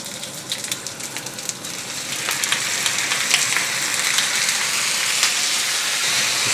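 Beef strips hit a very hot pan for a stir fry with bok choy, giving a steady, dense crackling sizzle that builds slightly and holds, with sharp spits and pops scattered through it.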